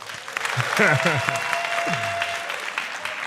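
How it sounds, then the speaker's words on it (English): Event audience giving itself a round of applause, a full continuous burst of clapping with a presenter's voice speaking briefly over it. "Give yourselves a round of applause."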